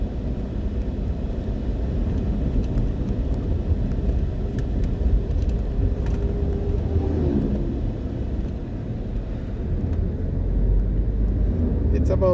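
Midday road traffic in Jamaica, with a steady, loud rumble of passing cars and engines close by and a continuous wash of road noise throughout.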